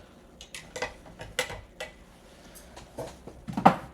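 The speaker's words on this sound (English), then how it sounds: "I'm gonna hammer it a little bit" A chasing hammer strikes the wire rounds of a handmade woven ring in a series of sharp, irregular metallic taps, close and fairly loud, with a heavier blow near the end.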